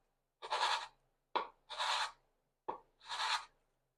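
A hand plane chamfering the corners of a hemlock plane sole, tilted at 45 degrees, with three separate rasping strokes, each preceded by a brief sharp contact, close and clear with no talk.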